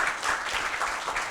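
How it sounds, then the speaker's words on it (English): Conference audience applauding themselves at the close of a session on data and AI, a short burst of dense, even clapping filling the room. "Have a round of applause for yourself equally."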